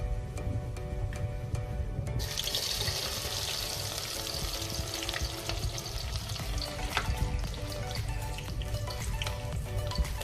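Food frying in hot mustard oil in a pan for a green eggplant and potato dish, with a steady sizzle and a crackle that grows brighter after a few seconds.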